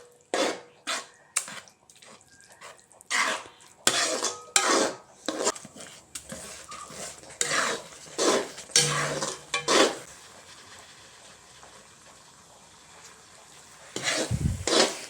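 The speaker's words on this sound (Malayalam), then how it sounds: "കൈവിടാതെ ഇളക്കിക്കൊണ്ടിരിക്കുക" Thick jackfruit preserve stirred in a pan, a run of close, irregular scraping strokes of a spoon against metal in bursts, pausing briefly before a final stir.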